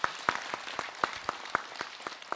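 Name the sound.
audience applause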